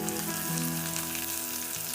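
Chopped large onions and curry leaves fry in a pan for a squid roast, making a loud, steady close-up sizzle with a brief stirring clatter at the very end.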